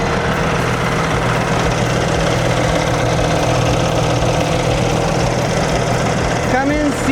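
A Cummins CX-15 diesel engine idles steadily in a grapple roll-off dump truck in Los Angeles, with a constant low rumble throughout and a brief whine near the end.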